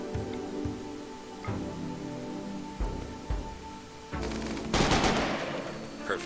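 RimWorld colonists fire guns in a video-game battle. Scattered individual shots pop at irregular intervals, then a louder, denser burst of fire breaks out past the midpoint before single shots return.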